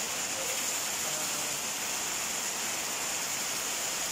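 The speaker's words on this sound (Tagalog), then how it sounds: "sobrang lakas ng ulan" Steady, dense rainfall pours down continuously, a loud broadband hiss with no breaks and no voices.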